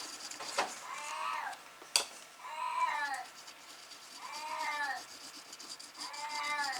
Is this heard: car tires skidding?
no